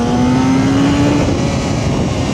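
Honda CBR954RR Fireblade, a 23-year-old sport bike, roaring loud and steady through a restored Micron exhaust, a continuous engine drone with a rising tone early on and no voices.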